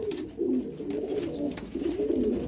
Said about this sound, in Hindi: सब रिजल्टेड कबूतर हैं